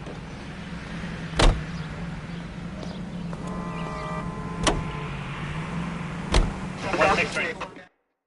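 Car engine from L.A. Noire on PS4, a steady low rumble under a faint voice, punctuated by three sharp thumps and a brief metallic clatter near the end.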